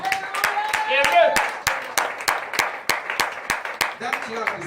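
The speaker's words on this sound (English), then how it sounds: "That clap is a jealous clap." Church congregation claps in a steady rhythmic beat, a dozen or so sharp, evenly spaced claps, with voices speaking and calling out underneath at the start and end.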